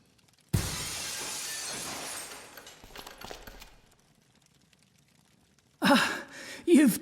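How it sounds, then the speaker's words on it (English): Glass shatters in the video game Dead Synchronicity, a sharp crash followed by tinkling debris that fades over a few seconds, then a voice speaks briefly afterward. "the seat cover absorbs the noise of the breaking glass"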